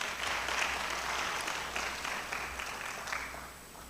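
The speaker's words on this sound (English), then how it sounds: "Give Niels another round of applause." Steady audience applause at a geopolitics conference in Kampala, a dense even patter of many hands clapping that holds throughout, moderately distant and slowly fading.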